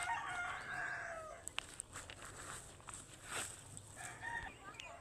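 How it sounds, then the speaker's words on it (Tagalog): Chickens cluck and a rooster crows on a farm, faint and somewhat distant over soft rustling and a few light footsteps, with quiet ambient noise throughout and no talking. "Sa manok."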